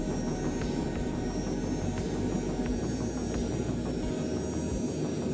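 Jet engines of a Lockheed JetStar running in a flight simulator, a steady droning engine hum with a faint high whine and occasional soft clicks.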